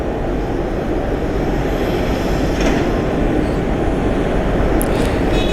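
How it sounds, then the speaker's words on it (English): A United airliner pushes back or taxis at an airport, its jet engines a loud, steady broadband roar throughout, with faint brief higher tones near the end. "We got a United pushing out or taxiing out."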